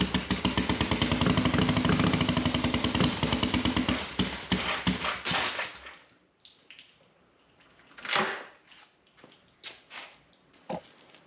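A Harley-Davidson Sportster Ironhead motorcycle with a wet-sumping oil fault cranks and runs loudly for several seconds, then cuts out, leaving a few scattered clanks and drips.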